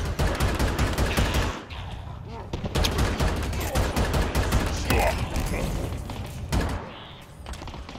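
A plasma cannon firing rapid bursts in the Halo Infinite video game, a dense run of loud repeated blasts and thumps with short pauses, close, with some voices mixed in.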